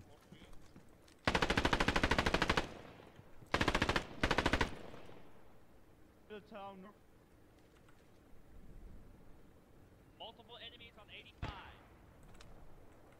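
Machine gun fire in a World War II video game, two long bursts of rapid automatic shots followed by a shorter burst, loud and close, with faint voices and scattered noises in the quieter gaps.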